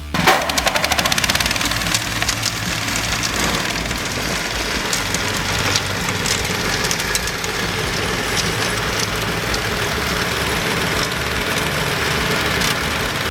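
A four-stroke petrol engine on a self-propelled stubble mower runs steadily and loud for the whole stretch, a continuous close mechanical drone with no talk.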